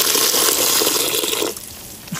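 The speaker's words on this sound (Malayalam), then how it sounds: "അപ്പോൾ ഇനി പ്ലാസ്റ്റർ പേസ് കുറച്ച് എടുത്തിട്ട് കുറച്ച് വെള്ളം കൂടുതൽ ചേർത്തിട്ട് കുഴയ്ക്കണം" Water gushes steadily into plaster paste being mixed for a crib made from waste materials, a continuous close pour that cuts off abruptly near the end, followed by a brief soft knock.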